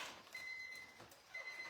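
Two faint, steady electronic beeps from an All-Clad All Cook kitchen robot, each a sustained tone, the second starting just after a short pause, in a quiet room.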